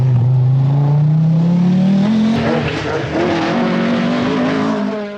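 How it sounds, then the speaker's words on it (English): Rally cars at the 1982 Manx Rally run flat out on a special stage, a loud engine rising steadily in pitch under hard acceleration, with gear changes and tire noise close by and a faint voice underneath. "It's still flat out as the cars start the first stage on Friday, with Toivonen eager to extend his 15-second"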